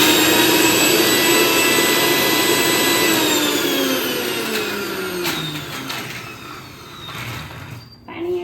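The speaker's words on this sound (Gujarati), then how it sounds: "હવે આપણે એને પીસી લઈશું।" Mixer grinder grinding a spice paste for Vadodara-style pauva usal: a loud, high motor whine that runs steadily, then winds down and fades toward the end.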